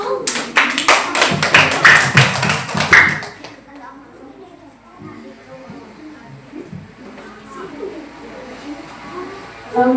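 Close classroom applause for a student group, a dense burst of hand claps lasting about three seconds and then dropping to quiet room noise, with faint voices and a distant cooing bird in the background.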